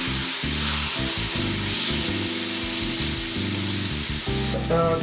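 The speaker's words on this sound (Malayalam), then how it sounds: "അപ്പോൾ നമുക്ക് ഈ ചിക്കൻ പാനിലേക്ക് വെച്ചിട്ട്" Marinated chicken breast for homemade shawarma sizzles in a well-heated pan, giving a loud, steady frying hiss that runs throughout with low, pulsing background sounds beneath it.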